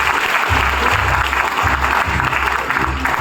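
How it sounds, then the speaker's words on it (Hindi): Loud audience clapping at a speech gathering comes as a dense burst of applause with heavy low thumps, continuing strongly through the whole stretch. "तो दमदार वाली एक बार जोरदार तालियां एक ही बार में।"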